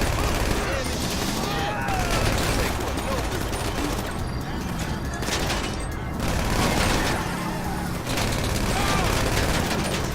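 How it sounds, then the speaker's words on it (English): Drive-by gunshots in GTA 5 Online sound as dense rapid gunfire and booms over busy game noise, and someone talks over the top of it. "It's a drive-by now, so shoot that head."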